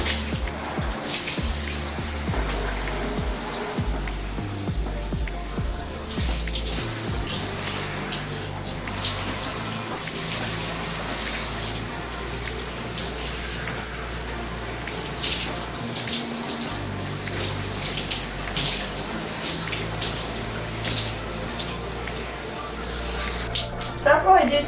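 Steady running water pours and splashes while curly hair is washed, a continuous hiss lasting throughout with a voice speaking faintly underneath.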